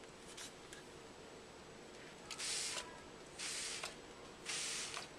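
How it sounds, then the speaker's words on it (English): Three quick hissing bursts from a spray bottle, evenly spaced against a quiet room background. "I have my spray bottle here."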